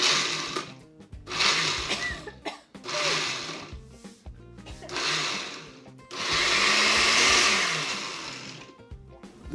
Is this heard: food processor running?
yes